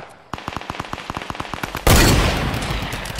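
Rapid drum gun fire in a video game: about a dozen evenly spaced, punchy shots in quick succession, then a loud, sustained roaring blast that fills the rest of the moment.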